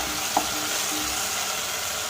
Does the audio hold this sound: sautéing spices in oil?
yes